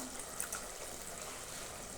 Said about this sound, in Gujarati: આ પાણી છે ડીશમાં એ આપણે નહીં રાખીએ ઠલવી દઈશું